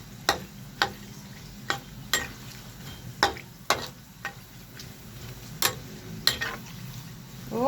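Pork fat frying into cracklings for pork noodle soup; a low bubbling sizzle runs underneath sharp, evenly spaced clicks and taps from stirring, about a dozen distinct strikes, fairly close.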